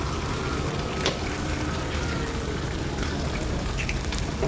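Eggs fry with meal maker soya chunks in oil in a pan for egg biryani, a steady, close, hissing sizzle with a few louder pops and crackles.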